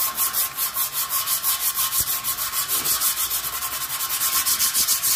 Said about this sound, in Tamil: இந்த மாதிரி தேய்ச்சிட்டு ஒரு பிரஷ் வச்சு தொடச்சிங்கனா போயிடும்